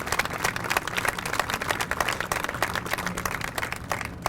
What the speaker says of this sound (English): I think we all owe him a big round of applause